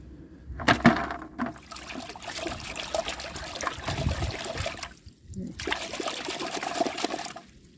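Water trickles and splashes as garden vegetables freshly picked from a backyard plot are rinsed to wash off soil, a steady running-water wash with brief pauses and a sharper splash near the start.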